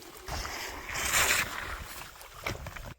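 Water rushes out after a valve is opened on a tractor-carried makeshift swimming pool outdoors, a steady, moderately loud gushing wash with a brief surge and slight wind.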